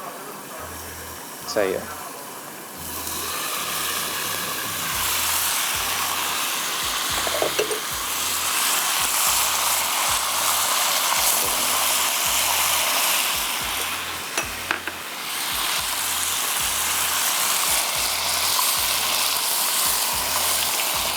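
Ginger garlic paste sizzles steadily in a hot pan of oil, a continuous bright frying hiss running throughout with brief clatters, while a person speaks briefly over it.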